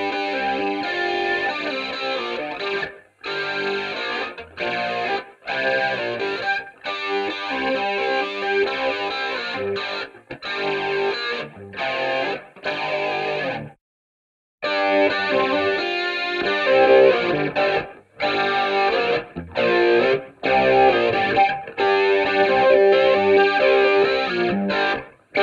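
Distorted electric guitar played through a humbucker bridge pickup, recreating a song's tone: a loud, riff-driven line of chopped, rhythmic phrases with short gaps and one longer pause midway, no voices.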